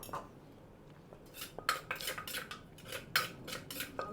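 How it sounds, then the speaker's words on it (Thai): Utensils toss a Thai mango, pomelo and papaya salad in a bowl, close rhythmic clinks and scrapes of metal against the dish after a brief quiet start. "แล้วก็คุกให้เข้ากัน"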